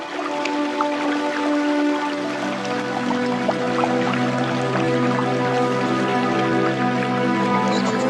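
Heavy rain in the Masai Mara patters and drips steadily, with dense close droplet taps over a continuous wet background.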